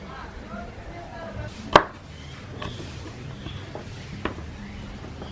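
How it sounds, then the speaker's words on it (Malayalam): A kitchen knife chops jackfruit into small pieces for a chilli jackfruit dish: one loud, close chop against the board, then a few faint taps over quiet background. "നമ്മളെല്ലാം ഇങ്ങനത്തെ കഷ്ണങ്ങളാക്കണം കേട്ടോ."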